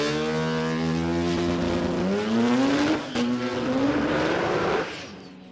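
A 12A rotary-engined drag car at the Garrett Adelaide Jamboree spins its 28.9 Street rear tyre, the engine's buzzing howl climbing steeply in pitch under a hissing screech of tyre squeal, then fading out.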